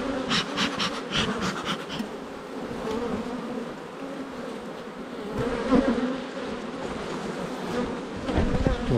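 Dense, steady buzzing of many honeybees swarming close around an open beehive during a mid-July honey harvest, a continuous droning hum with brief louder swells as bees pass near.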